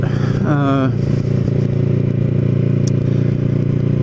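A motorcycle rides through the streets of Cape May with a steady engine drone and road noise throughout and a brief rising whine near the start.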